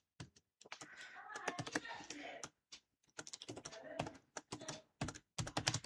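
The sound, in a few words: typing Java code on a computer keyboard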